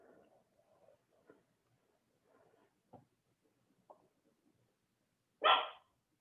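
A single dog barks once, loud and sharp near the end, after a stretch of faint, scattered low sounds in a quiet indoor room.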